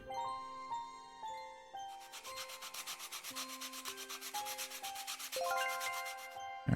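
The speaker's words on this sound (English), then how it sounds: "And that's all 4 parts into the sanding block." Toy parts on a sanding table in the video game Toy Tinker Simulator, a rapid rhythmic rasping scrub with layered chiming game tones, with no talking.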